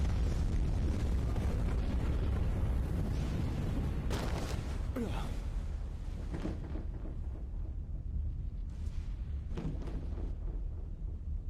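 Explosions in Rygar: The Legendary Adventure rumble loud and deep throughout, with several sharper blasts bursting through the continuous roar.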